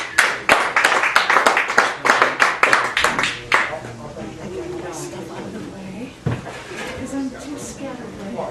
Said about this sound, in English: Give it up for Joffre Stewart